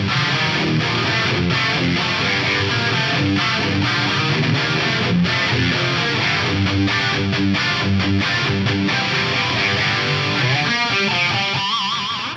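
Electric guitar played through an Axe-Fx III with an H3000-style detune placed after reverb gives a dense, distorted, shimmering wash of chords and notes that sustains steadily and loudly throughout, with no voices.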